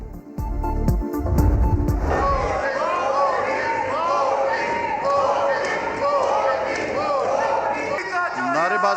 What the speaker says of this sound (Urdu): نعرے بازی نہ کریں، بالکل